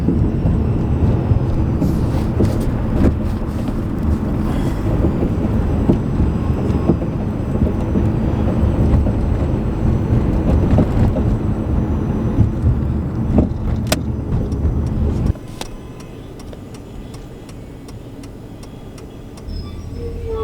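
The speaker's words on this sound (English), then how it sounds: "This is all traffic going down because they got rerouted." Rerouted road traffic streams past on a city street during the Los Angeles wildfires, a steady, loud wash of passing vehicles with faint ticking, which abruptly drops to a quieter rumble near the end.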